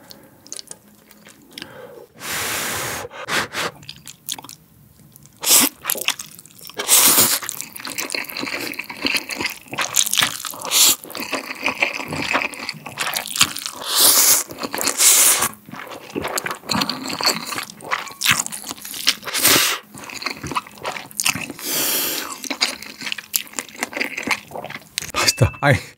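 Spam ramen with egg, cheese and green onion being eaten up close, with wet slurps, chewing and crunchy bites in irregular bursts throughout, loud and continuous, with occasional talking mixed in.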